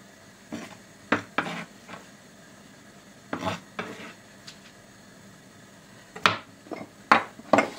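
A knife chops washed sorrel and onions, giving scattered sharp cuts and clicks in uneven bursts with quiet gaps between, and no one speaks.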